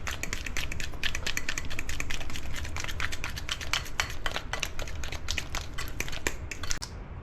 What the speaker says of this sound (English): I'm using a fork, nothing special, and a medium-sized mixing bowl